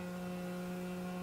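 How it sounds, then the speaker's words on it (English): A remote dog training collar vibrating, a steady close electric buzz that holds without a break. "So this is the vibration part of the collar, so you can kind of get a general idea of seeing how that is kind of buzzing."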